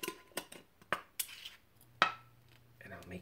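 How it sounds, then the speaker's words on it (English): A lid set onto a hot glass jar, heard as a few sharp glassy clinks and clatters spaced apart, with a metallic knock and some handling noise near the end. "I'll take it out, and I'll put the lid on it"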